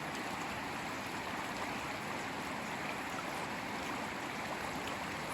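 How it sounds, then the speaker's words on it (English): Floodwater racing down a footpath in a creek, a loud, constant roaring rush of water that continues unbroken throughout. "as I go down the slope and approach the footpath, you can see that it has now become a raging torrent"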